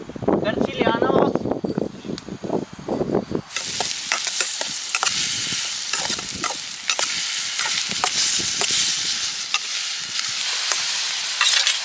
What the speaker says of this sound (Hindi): तो हमारे मसाले पक रहे हैं बढ़िया से मटर पनीर के लिए